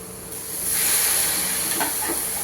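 Boiled banana stem hitting a hot pan for sautéing, a hissing steam rush swelling after a moment and holding steady, with faint stirring scrapes near the end.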